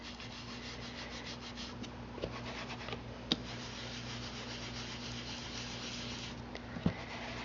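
Soft, steady rubbing as ink is worked over embossed paper, a continuous close scratchy swish with a few faint taps, quiet and without talk.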